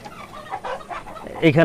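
Mixed chickens of ornamental breeds, including Turkish and Japanese bantams, cluck in short bursts close by, growing louder toward the end with a rising call.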